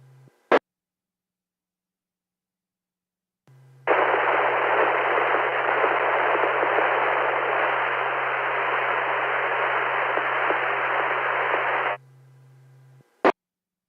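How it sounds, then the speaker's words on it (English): Amateur radio static on a ham radio net: a steady wash of fuzz and hiss lasting about eight seconds, framed by a low hum and sharp clicks as the receiver opens and closes. "I've got nothing but fuzz and hiss. I heard absolutely nothing."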